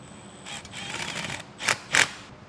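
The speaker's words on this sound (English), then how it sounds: "Now I'm going to tighten these down with a 10mm socket and a Phillips head screwdriver on the other end." Metal clicks and rattles of a 10mm socket wrench tightening bolts while mounting a Firestone Air Command heavy duty air compressor, with soft handling noise then two sharp close clicks near the end.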